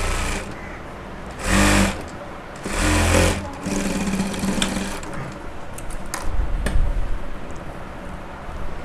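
A sewing machine stitches an old blouse during an alteration, running in two short loud bursts with quieter handling noises between and after them.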